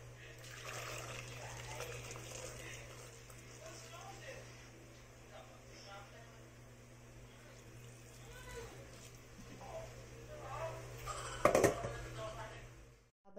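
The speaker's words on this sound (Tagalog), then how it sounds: "Gamitin ko na lang yung tirang mainit na tubig namin." Leftover hot water poured over chicken feet in a home kitchen, a soft steady trickle and splash heard up close, with a louder splash near the end.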